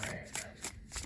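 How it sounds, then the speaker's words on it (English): A new, not yet broken-in tarot deck is shuffled by hand, giving quick riffling swishes and soft card slaps in an uneven rhythm, close and fairly quiet. "It is going to be a little tough shuffling at first because I haven't shuffled this deck just yet"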